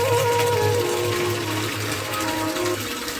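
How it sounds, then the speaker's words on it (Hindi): Water running steadily into a metal water pot (gagar) in a mountain village, a continuous close gushing stream with a rising ringing tone as the vessel fills, heard without talk. "तब तक ना मैं पानी की गागर भर के लाती हूँ"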